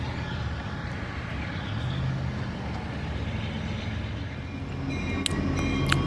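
Southbound train rolling past, a steady low rumble of wheels and cars with a sharper metallic clatter near the end, heard from close by.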